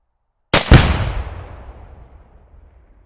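A rifle shot strikes a one-pound binary explosive target downrange, setting off a single loud boom, with a sharp report first, that rolls away and fades over a few seconds.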